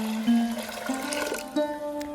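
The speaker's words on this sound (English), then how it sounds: "Now to this add in 3 cups of water." Water pours steadily into a pressure cooker holding washed rice and split moong dal, a continuous close splashing fill with slight surges in flow, no voices.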